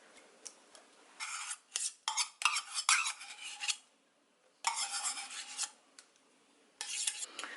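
Dry sweet potato waffle ingredients being stirred in a bowl, with bursts of scraping and rubbing separated by short pauses, close and fairly quiet.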